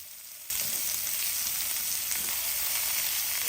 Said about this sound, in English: To the same pan, we are going to add our sliced onions. And the key goal is to allow the onions to caramelize.